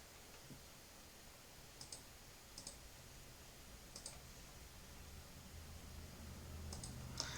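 Mouse clicks on a software Save button, a few sharp, faint ticks spaced a second or so apart over a quiet, hissy room background.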